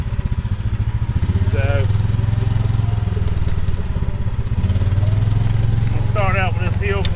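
A Club Car DS golf cart fitted with a Predator 459cc engine is revved twice, each rev a loud, close rising roar that settles back to idle, with someone speaking briefly over it.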